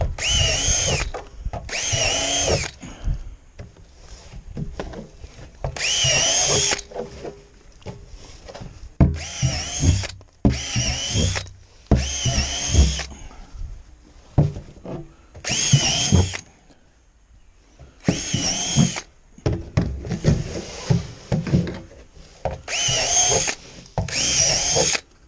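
Power drill boring holes in wood while building a catfish habitat in a backyard, repeated bursts of high whining motor and cutting noise separated by short pauses, close and loud, with no speech.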